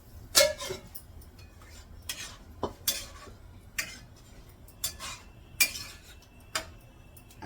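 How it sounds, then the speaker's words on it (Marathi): Pots and pans being washed by hand in a home kitchen, with a little hot water: sparse metallic clinks and knocks of utensils, sharp and close, spaced irregularly through a quiet background with no talking. "जे भांडे ते सगळे असे धुवून देते"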